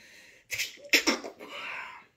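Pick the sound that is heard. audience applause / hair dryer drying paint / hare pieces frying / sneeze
sneeze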